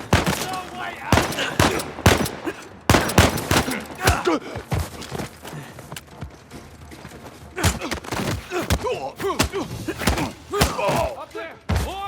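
Gunfire erupts in an Uncharted 4 firefight as a sniper opens up, with sharp, loud shots and bursts in irregular clusters, some heavy thuds among them, and bits of voice between.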